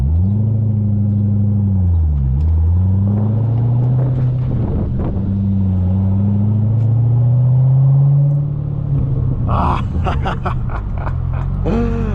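A 2006 Chevrolet Corvette convertible with a six-speed manual revs up loudly in first gear with rising pitch, dips as it shifts, then climbs again under wind buffeting, ending with rattling bumps.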